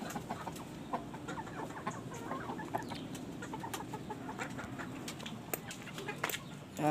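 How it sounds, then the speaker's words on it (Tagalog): A small flock of chickens clucks steadily around a coop at feeding time, many scattered short calls overlapping nearby, with a bump of handling noise at the end. "Pakainin natin yung manok."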